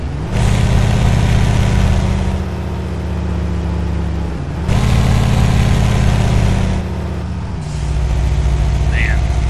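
A heavy truck in Euro Truck Simulator 2 rumbles loudly with a deep, steady engine drone and Jake brake, its tone dropping and shifting in three long stretches as the load changes, with no talk.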